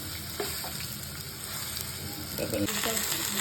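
Masala-coated vavval (pomfret) fish frying in a pan, a steady close oil sizzle throughout with light stirring and scraping clatter that grows busier toward the end.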